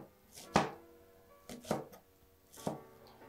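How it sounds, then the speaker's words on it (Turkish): A knife chops fresh green onions on a board for kısır, with three distinct, crisp strikes roughly a second apart, close and fairly quiet in an otherwise calm kitchen. "Şimdi taze soğanımızı doğruyoruz."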